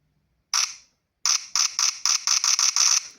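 Short bursts of electronic clicking from a camera's electronic shutter, one alone then a quick run of about eight evenly spaced clicks, crisp and close.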